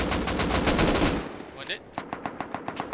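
A loud rapid volley of gunfire from the survival game Rust, with an L96 sniper rifle in the fight, giving way to a faint sweep and then a regular string of sharp, more distant single shots.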